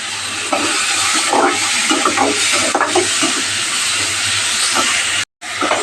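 Tomatoes and onions fry with salt in a pan for kadamba sambar, a loud, close, continuous sizzle and hiss with occasional stirring scrapes, broken by a brief cut near the end.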